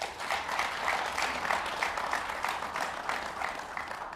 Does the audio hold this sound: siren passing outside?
no